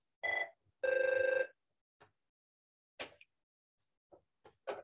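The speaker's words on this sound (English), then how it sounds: "My phone was ringing" A mobile phone rings in two short electronic trill bursts, followed by a few faint clicks and knocks in an otherwise quiet room.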